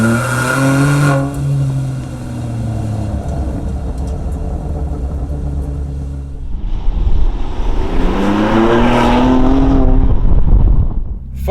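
BMW M2 Competition fitted with a Remus exhaust accelerating hard, its engine note climbing in pitch, easing off, then pulling up again in a second loud, close surge.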